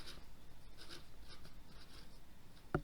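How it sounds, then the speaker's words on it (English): A pen writes decimal numbers on paper at close range, its soft scratchy strokes coming in a quick steady rhythm, with a sharp tap at the end. "I'm going to write the original decimals"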